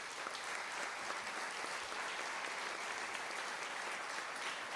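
Steady, dense applause from a large audience at a union event, honoring the three secretaries general of the Argentine CGT labor confederation, a continuous wash of clapping that holds evenly throughout.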